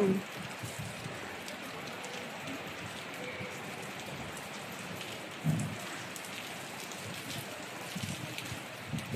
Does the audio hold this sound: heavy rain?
yes